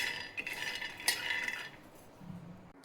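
Peanuts are dry-roasted in a pan, stirred with a utensil that scrapes and clinks against the metal in a quick, close run of small knocks.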